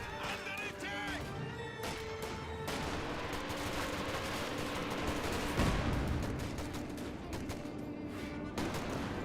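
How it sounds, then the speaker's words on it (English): Sustained artillery and gunfire from a Company of Heroes 2 battle, with a 120mm mortar barrage landing among dense overlapping blasts and crashes, steady and loud throughout with a heavier impact burst near the middle. "Looks like the Ezra barrage there was on the 120mm mortar."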